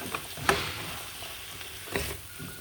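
Steady low sizzling of chicken frying in a pan for butter chicken, punctuated by a couple of sharp clinks from a utensil.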